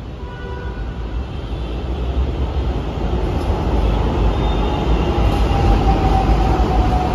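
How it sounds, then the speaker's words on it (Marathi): A metro train at Ramwadi, Pune, after turning around, rumbles and hisses steadily throughout, with a long sustained roar that swells slightly as it draws nearer, no voices present. "इकडून मेट्रो युटर्न हाणून आलेले हे बघायला थांबलो"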